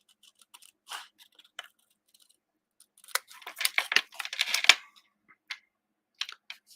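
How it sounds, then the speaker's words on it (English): Scissors snipping around a stamped paper image, quiet close-up clicks and slicing sounds in short scattered bursts, with a denser run of quick cuts in the middle and no talking. "And then I am going to quickly just cut out"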